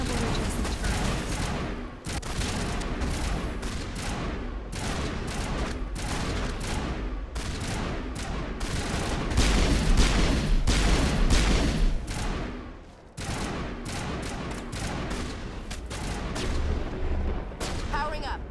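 Turrets fire in the Mass Effect game as dense, rapid bursts of gunfire and heavy booms, continuing almost without a break, with a voice talking among the shots.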